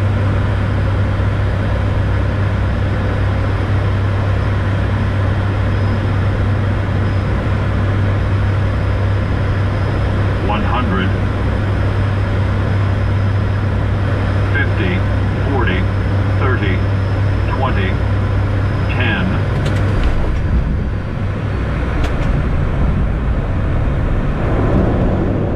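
Cockpit of an ATR-600 airliner in flight on a flight simulator, a steady droning engine and air hum filling the whole stretch, with faint chirps and brief tones rising over it midway; a voice may be speaking beneath.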